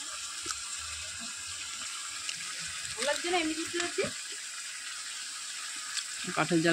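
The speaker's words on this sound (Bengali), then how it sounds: "একটু মাংসটা কষিয়ে নিচ্ছি, রান্না করে নিচ্ছি।" Meat frying in a pot over a wood fire, a low steady sizzle running throughout, with brief stirring scrapes and clatter partway through and a soft voice near the end.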